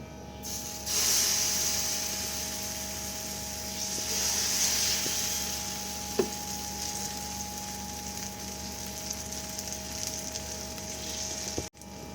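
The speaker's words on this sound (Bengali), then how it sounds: "তেলটা এরকম গরম হয়ে গেলে এই যে ব্যাটারটা এটা আমি এক হাতা মতো নিয়ে এখানে ছড়িয়ে দেবো" Batter is spread into hot oil in a pan, and a loud, steady sizzle rises as it hits the pan, holds with gentle swells and a single sharp tap midway, then cuts off abruptly near the end.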